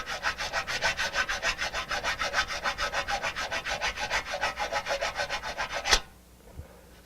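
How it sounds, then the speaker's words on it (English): Hand file rubbing quickly over an aluminum part of a grill being broken down for recycling, about twenty crisp, evenly paced rasping strokes up close, ending with a sharp scrape and then quiet. "Another way to test is always carry your trusty file with you, and see if we can't file something back here."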